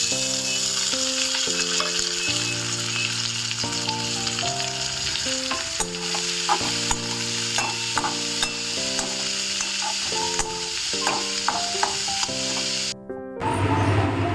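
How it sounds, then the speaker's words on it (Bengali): Onions sizzle steadily in hot mustard oil with garlic and green chillies, a continuous frying hiss with occasional stirring, mostly under louder background music with sustained chords. "পেঁয়াজটা হালকা ভাজা হয়েছে, এবার দিয়ে দেবো শাকগুলো।"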